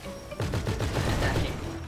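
A rapid burst of automatic gunfire in the video game GTA V, a dense string of close, loud shots lasting about a second.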